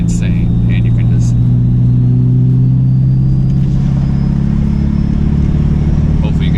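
A Ford 6.7 Powerstroke diesel truck fitted with a non-VGT turbo idles with a loud, steady, deep rumble, a faint high turbo whine running above the engine note.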